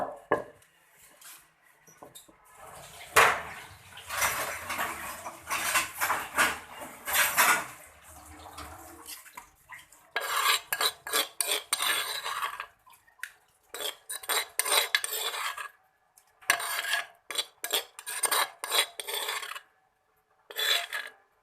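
A metal spoon scrapes and scoops freshly ground ginger-garlic paste out of a container while making chicken shami kababs, giving close, repeated rasping clinks in short bursts with brief pauses between them.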